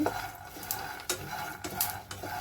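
Dry peanuts stirred in a pan while roasting give a run of scraping, rattling stirs with occasional clinks, close and moderately loud, no talking.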